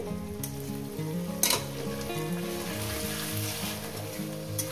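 Chicken pieces fry in a pan over an earlier-fried spice mixture for chicken bharta, giving a steady dense sizzle throughout, briefly marked by a louder crackle of stirring, close up and with no talk.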